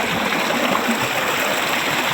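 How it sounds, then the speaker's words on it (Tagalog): Mountain water flows out from under rocks in a steady, full rushing stream, constant and close with no breaks, and nobody speaks. "itong tubig na to galing sa bundok. Sa ilalim ng bato siya dumaan."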